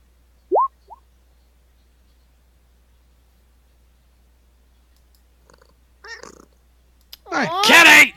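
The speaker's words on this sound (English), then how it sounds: "I put headphones on and I hear Kitty." A house cat gives a short, faint meow and a tiny chirp, then long quiet follows before soft rustling and a louder, drawn-out meow close to the microphone at the end.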